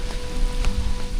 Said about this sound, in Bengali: অনেক বৃষ্টি পড়তেছে